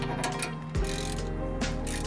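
A ratchet wrench clicks steadily while tightening a nut on the suspension of a 2004 BMW E46 330i ZHP, with close, crisp repeated pawl ticks and a brief pause partway through.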